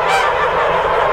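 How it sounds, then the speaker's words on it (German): Geese on a goose farm honking loudly and continuously, a dense nearby chorus of overlapping calls with no pauses. "Schaut mal, was für Gänse hier sind. Wunderschöne Gänse."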